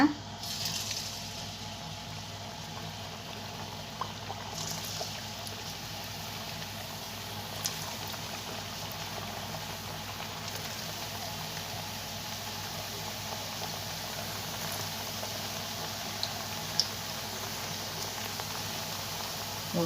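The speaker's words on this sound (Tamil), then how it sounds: "இப்போ நம்ம தட்டி வச்ச தட்டையே ஒவ்வொன்றா இதில் போட்டு பொரித்து எடுத்துக்கலாங்க" Thattai rice crackers deep-fry in hot oil, producing a faint, steady bubbling hiss that runs unbroken for about twenty seconds, with a few small pops and no talking.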